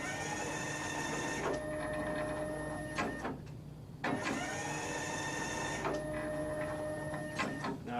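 Motorized head of a Kegel Kustodian ION bowling lane machine travels along its track, with repeated whirring electric motor runs and sharp stops, mechanical clicks and a steady hum between movements, close and clear with no talking.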